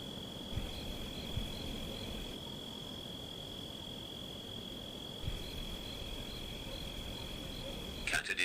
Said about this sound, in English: Katydids, known by many as bush crickets, always make loud humming sounds at night.